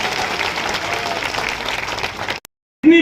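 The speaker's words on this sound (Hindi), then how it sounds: "तालियां" Sustained audience applause at an all-India poetry gathering in a municipal complex hall in Biaora, steady and fairly loud, then a sudden cut to silence and a short burst of voice at the end.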